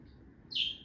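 A pet bird gives one short, bright chirp, close by and fairly loud, over a low hum of room noise, with no voices.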